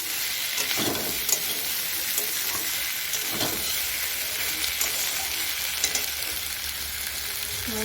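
Taro stolons (loti) frying in a pan with a steady, loud sizzle and hiss throughout, broken by occasional scraping stirs of a spatula, close up, with no talking.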